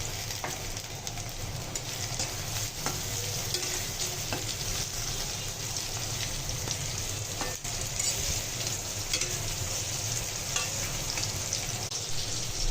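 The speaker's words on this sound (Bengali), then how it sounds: "দারচিনি, এলাচ একসঙ্গে ভেজে নিব" Cinnamon, cardamom and onion fry in a pan with a steady, continuous sizzle, broken by occasional stirring scrapes and spatter pops at close range, with no voices.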